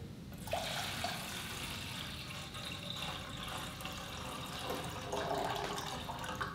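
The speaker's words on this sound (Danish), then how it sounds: "Så vi har vand her ned i gryden med det." Water running or pouring into a cooking pot for pasta on a Swiss mountaintop, a steady rushing splash that holds at an even level throughout.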